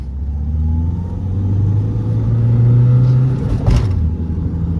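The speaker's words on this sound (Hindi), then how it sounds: "ड्रैग रेस शुरू, मतलब रोलिंग इन 3, 2।" Two Mahindra XUV500 SUVs, one with a 2.2L engine and one with a 1.99L engine, accelerate side by side in a drag race. A loud, close engine rumble climbs steadily in pitch, then a brief whoosh sweeps past near the end.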